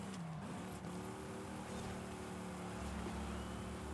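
A Dodge Hemi engine in Forza Horizon 5 revs toward 7,500 rpm and climbs in pitch, its roar rising and holding high, with no talking.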